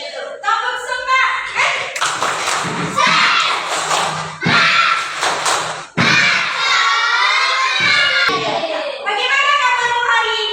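A group of schoolchildren in a classroom does a rhythmic spirit-clap chant, shouting loudly in unison with sharp patterned claps and brief pauses between phrases.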